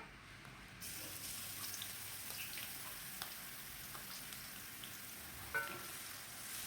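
Onions drop into hot oil in a pot for Bukhari rice, and a faint, steady frying crackle follows with a few small pops. It is quiet and somewhat distant, with no voices.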